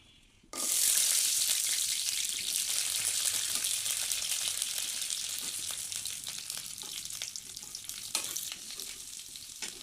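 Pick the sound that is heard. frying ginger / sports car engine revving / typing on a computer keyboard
frying ginger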